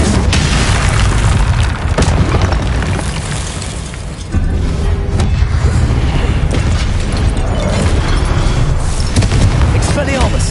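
The Confringo explosive spell in a Hogwarts game: loud booming blasts sustained over a dense, continuous wash of game sound, with a brief dip midway and a voice present.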